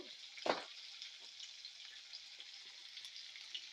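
Chopped onions and green chilies with turmeric for a meal maker and egg dish cook in a pan with a faint, soft sizzle, opened by a single sharp clink of a utensil.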